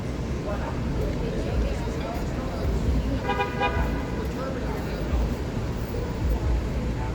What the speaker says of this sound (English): The bus is going to honk for someone to scoot up.